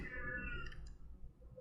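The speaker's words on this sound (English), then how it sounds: "That's my cat, guys." A pet cat gives a single faint, drawn-out meow that fades into quiet background clicks.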